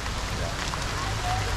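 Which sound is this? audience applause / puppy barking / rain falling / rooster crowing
rain falling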